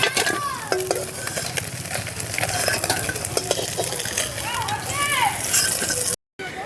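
Koi fish frying in hot oil in a home kitchen, a steady sizzle with stirring and utensil clinks, a voice speaking over it throughout before a brief cut near the end.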